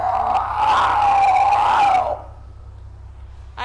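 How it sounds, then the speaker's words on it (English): A captive male harbor seal gives a single loud, low, drawn-out moaning call lasting about two seconds, followed by quiet ambient hum. "He is the seal that we have who vocalizes."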